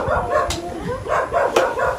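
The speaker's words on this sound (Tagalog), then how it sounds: "ang ingay ng mga aso" Several dogs bark and yip in short repeated bursts at moderate distance, a noisy indoor backdrop with no talk over it.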